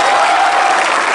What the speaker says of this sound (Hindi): आपकी तालियां शामिल होंगी तो शायद ये नज्म अमर हो जाएगी